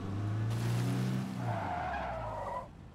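A truck skids in the video game State of Decay 2, giving a loud, close tire squeal with engine roar that lasts about two seconds and then cuts off abruptly.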